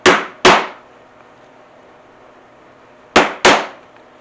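A 1/8 inch punch is struck through leather on a poly cutting board, giving four sharp, close strikes in two quick pairs separated by a few seconds of quiet.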